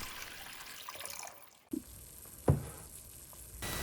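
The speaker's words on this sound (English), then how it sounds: "And then we're going to add some hot water to the pot." Hot water poured into a pot of mapo tofu, a soft splash and brief pouring patter after a quiet sizzle, fairly faint and close.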